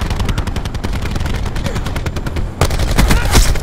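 Rapid gunfire from the Black Ops 4 video game pounds loudly and continuously, with a sniper's nest firing amid dense repeated shots and a heavier burst near the end.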